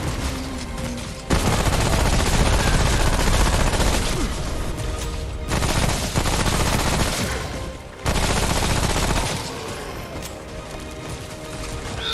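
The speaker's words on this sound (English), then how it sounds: "It's artillery." Heavy artillery and rapid gunfire in the shooter game Remnant: From the Ashes, a loud continuous barrage of blasts in several long bursts with brief quieter gaps between them.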